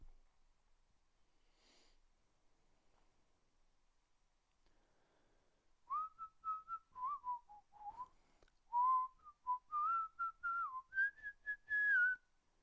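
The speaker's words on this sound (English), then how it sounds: "Whistling a tune to a popular song." Whistled tune of a popular song, played as a melody of clear pitched notes that rises and falls, starting midway after near silence and heard alone and close.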